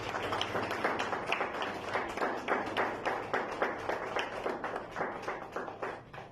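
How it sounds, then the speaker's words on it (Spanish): A church congregation gives a sustained round of applause for the Lord during an evening service, steady dense clapping with rhythmic accents, moderately loud throughout. "¿Cuántos le dan un aplauso al Señor?"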